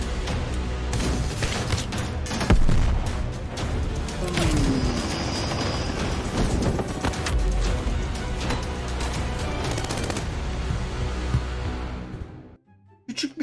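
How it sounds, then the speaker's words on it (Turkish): Bombs bursting in the PUBG Mobile video game on a volcano-slope map with flowing lava: a loud, dense barrage of blasts and crashes over a constant roaring rumble, continuing nearly without pause before cutting off abruptly near the end. "bombalar patlıyor vesaire"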